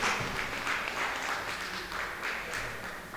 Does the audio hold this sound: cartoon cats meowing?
no